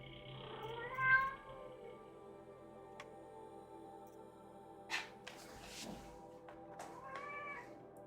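A cat meows in the video game Horizon Zero Dawn, with a clear meow early on and another near the end over a steady game soundscape with faint music.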